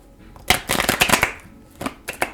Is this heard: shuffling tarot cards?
yes